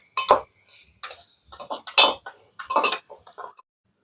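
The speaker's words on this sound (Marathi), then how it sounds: "आता मम्मी मस्तपैकी एकजीव करून घेते" A spoon clinks and scrapes against a pot while spices and onion-garlic masala are mixed into village-style chicken curry cooked on a wood-fired stove, several distinct metallic knocks in a close, quiet setting.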